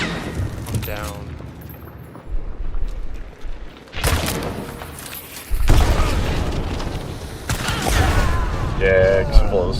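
Explosive crossbow bolts blow up during a Hunt: Showdown match, heavy booming blasts and bursts of noise rolling over several seconds, with players talking over the chaos.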